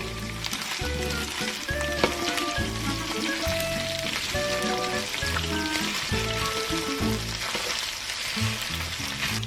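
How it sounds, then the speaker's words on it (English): Beef searing in a pan for chile con carne, with a steady close sizzle running the whole time beneath continuous background music. "So we're going to keep doing this process until they are nice and brown."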